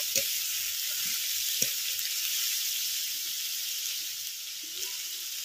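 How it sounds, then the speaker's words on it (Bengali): Sea crab brains hit a hot pan and are gently stirred, a loud, steady hiss of sizzling oil with a couple of faint clicks from the spatula. "এবারে যে কাঁকড়ার ঘিলুটা বের করে রেখেছিলাম সেটা দিয়ে দিচ্ছি। হালকা করে মিশিয়ে নিচ্ছি।"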